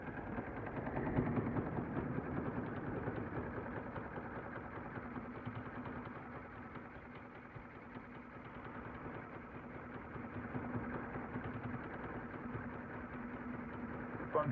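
A Baby Lock Unity sewing machine stitches a scallop edge on fabric, a steady rapid needle chatter running continuously at low volume with a faint motor hum underneath.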